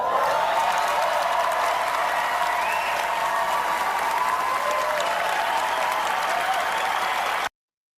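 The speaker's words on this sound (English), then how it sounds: "I appreciated that applause." Sustained applause from a large audience at the Oscars ceremony, steady and loud throughout, ending in an abrupt cut.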